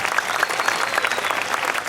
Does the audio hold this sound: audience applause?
yes